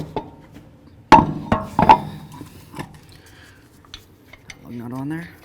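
A replacement wheel is lifted onto the front hub of a 2008-18 Chrysler Town & Country minivan: a few sharp metallic clanks and thuds close by, then quieter handling and a brief voice at the end.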